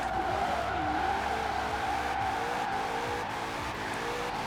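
A 2020 Shelby GT500 in Forza Horizon 4 revs hard and steadily, its engine note rising and falling through gears alongside tire squeal, loud and close with no talking.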